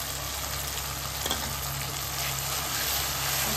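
Ginger garlic paste sizzling loudly as it hits hot oil and frying spices in a pan, a steady broadband crackle that holds throughout with a light stir around the middle and no talking.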